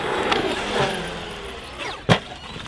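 Traxxas RC car at full throttle, a bright, busy whine of motor and gearing that shifts in pitch as it drives off, then a sharp loud knock near the end.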